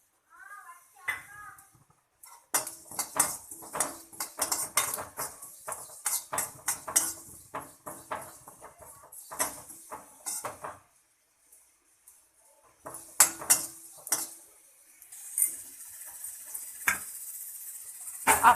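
White sesame seeds dry roasting in a pan give off quick rattling and scraping clinks, busy in bursts with short pauses, close and fairly soft.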